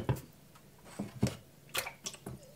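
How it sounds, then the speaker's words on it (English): Chinese whetstone soaking in water, bubbling with irregular small pops and drips, close and quiet, no talking. "it's bubbling like crazy down here now."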